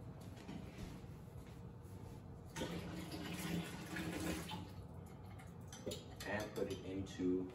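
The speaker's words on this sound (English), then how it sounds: "Now we're gonna dump out the water into the sink." Water being poured out of a measuring cup into a kitchen sink while baking cookies, a short close splashing gush with light clatter of kitchenware, over quiet background.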